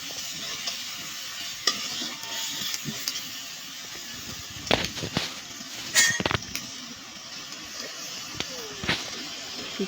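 Dried fish curry is fried in a pan over a village clay stove, with a continuous sizzle under repeated scraping stirs and occasional louder clatters of the spoon against the pan.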